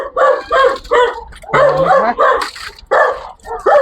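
Several sharp dog barks in quick bursts, close by, with a brief higher whine in the middle.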